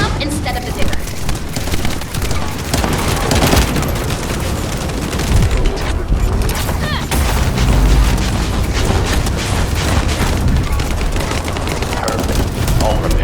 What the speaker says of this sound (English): Let's blow him up instead of the digger